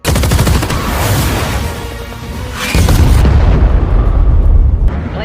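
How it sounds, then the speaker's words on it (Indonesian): Guns fired by a supersonic fighter jet in a combat video game, loud booming bursts and rapid heavy fire that dip briefly before a second sustained roaring barrage, all close and dominant. "Jet tempur dengan kecepatan supersonik ini kembali melepaskan tembakan."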